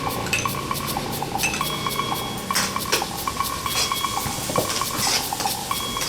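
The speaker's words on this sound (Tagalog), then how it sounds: "Igigisa ang bawang at sibuyas." Garlic and onion sauté in oil and margarine in a pan, with a steady sizzle under repeated clinks and scrapes of a metal utensil against the pan.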